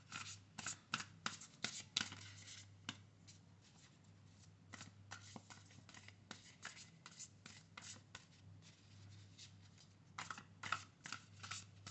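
Oracle cards are shuffled by hand in quick, soft riffling bursts and taps that keep going close up, fairly quiet, with a low hum underneath and no talking.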